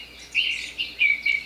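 Recorded birdsong played from a baby sound machine: a few bright, high chirping phrases in quick bursts, soft and steady, with no talking.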